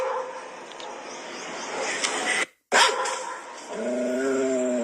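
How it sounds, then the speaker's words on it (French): A dog barks and growls near at hand, then drops briefly to silence and ends with a drawn-out whining, whimpering tone. "le chien là est fâché."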